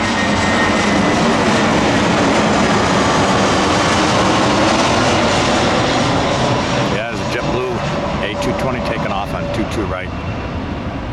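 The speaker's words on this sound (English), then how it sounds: "I hear an A220 spooling up someplace." An Airbus A220's jet engines spool up at an airport, a loud, continuous broadband roar that stays strong throughout, with a person talking over it near the end.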